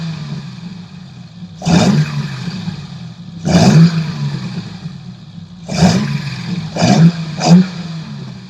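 BMW E30 325i convertible with throttle bodies and a full stainless steel exhaust, close by, blipped five times in short sharp revs separated by idle, the last three coming faster together.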